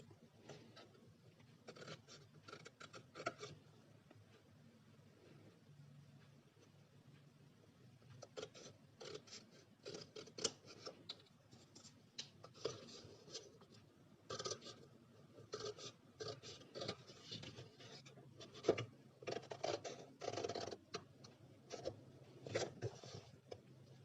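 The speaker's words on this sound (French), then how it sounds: "Et on va donc couper." Scissors cutting through cardboard while making a box with an easy closure, close and fairly quiet, in uneven bursts of scraping snips separated by short pauses.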